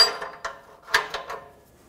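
Short metallic clicks and ratchet-like ticks from an O2 sensor socket working loose the oxygen sensor on a 2005-2015 Toyota Tacoma 2.7L, a handful of quick, close, faint taps with no talking.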